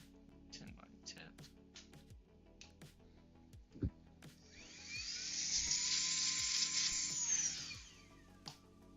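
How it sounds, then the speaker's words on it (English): Compressed air sprays in a steady, fairly faint hiss for about four seconds, blowing dust off a GameCube back cover, after scattered clicks and handling noises. "Let me blow it off with some compressed air."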